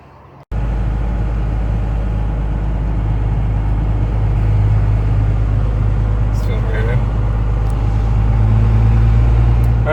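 A 1st-generation Cummins diesel truck drives along with a loud, steady low engine rumble and road drone that starts abruptly and holds evenly, with a faint voice in the cab.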